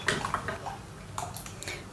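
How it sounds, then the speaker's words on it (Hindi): Water is poured into a gram flour (besan) batter in a bowl and mixed in, giving a close, splashy trickle with light clinks against the vessel for about two seconds. "और अब हम इसमें और पानी डालेंगे।"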